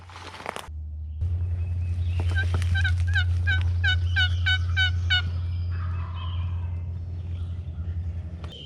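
A wild turkey gobbles in the Missouri spring woods, a loud rattling burst of rapid notes near the middle, with a short sharp knock at the start and a low steady hum underneath.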